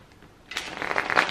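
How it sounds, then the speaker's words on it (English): A deck of tarot cards is shuffled by hand, starting after a brief quiet moment with a rapid crisp flutter and riffle of cards, close and moderately loud, with no talking. "I used to shuffle like this all the time"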